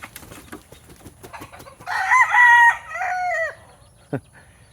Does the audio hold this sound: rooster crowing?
yes